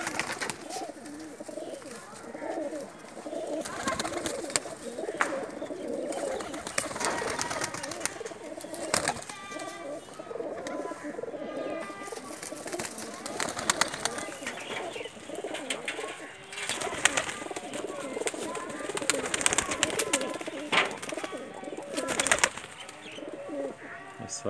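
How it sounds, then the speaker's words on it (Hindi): A loft of paired breeder pigeons, Pakistani birds raising eggs and chicks, coo in overlapping low, throaty rolls that go on throughout, with a few wing flutters and a faint voice in the background. "सब जोड़े वाले कबूतर हैं।"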